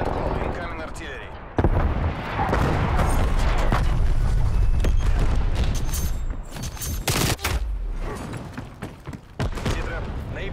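An artillery strike lands in a video game battle, a dense barrage of heavy booms and rattling blasts that starts abruptly and rolls on loudly, with a voice speaking over it.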